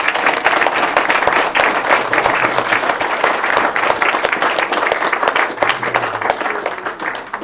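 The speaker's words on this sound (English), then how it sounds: "Can we have a round of applause, please?" Audience in a Buddhist teaching hall clapping for volunteers, a loud, dense round of applause with individual sharp claps audible throughout, sustained without a break and with no speech over it.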